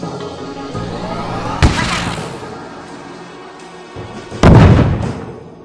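Two sharp, loud shot and explosion blasts in the game Wormix, the first around a second and a half in and the second near the end, each with a booming rumbling tail over steady ambience.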